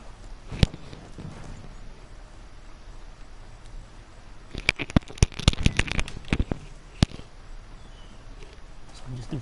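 Fireworks set off in a video game, a quick burst of sharp crackling pops and bangs clustered in the middle of the stretch, standing out over a steady background bed.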